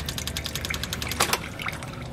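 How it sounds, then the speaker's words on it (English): Gasoline trickles back into the tank through the return fuel line of a Kazuma Mammoth 800 ATV, a steady faint liquid splashing and dribbling with a brief louder gush near the middle. "See how the gas is returning to the tank."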